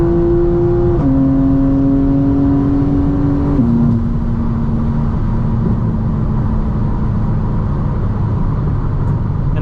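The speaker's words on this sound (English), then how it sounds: "People say it's a little bit of a droning noise in here." Cabin drone inside a 2025 BMW G82 M4 with active sound design switched on, a loud, steady low engine hum whose pitch steps down a few times while cruising, heard from within the car with no talking.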